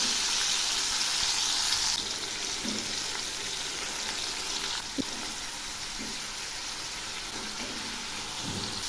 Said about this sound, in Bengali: এবার আমি ওই তেলে ফুলকপিগুলো ভেজে নিচ্ছি।